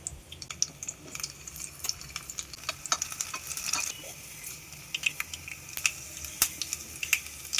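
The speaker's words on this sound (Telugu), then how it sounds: "దీన్ని తాలింపు వేసేసుకో." Tempering sizzles and crackles in a pan for sesame pachhi pulusu, a continuous close frying hiss dotted with sharp pops and stirring clicks, with no speech.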